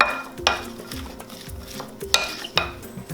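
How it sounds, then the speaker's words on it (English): Seasoned food (pink salt and black pepper) stirred in a pan for a vegan ackee dish, with a spoon scraping and clinking against the metal in a few sharp strikes over steady low stirring and soft sizzle, close and alone. "Mix it up."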